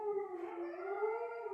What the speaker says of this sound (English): He's howling.